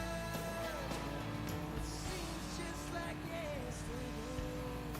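A Volvo car in the racing game Forza Horizon 5 runs with a steady, fluttery exhaust drone and shifting revs, heard alone without talk.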